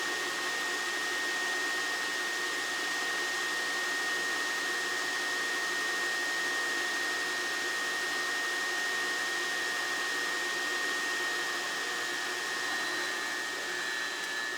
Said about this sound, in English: It's moving. Single pass grind. It's more like a dress pass, really.